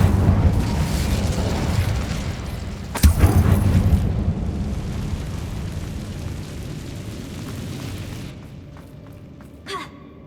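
Incendio fire spell cast in Hogwarts Legacy, a sudden booming burst of flame that rises out of a rumbling background, then a long roaring hiss that fades away, with a faint pop near the end.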